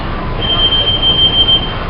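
New York subway W train at a station, a steady low rumble of the car with a thin high tone as the doors close, fairly close and continuous.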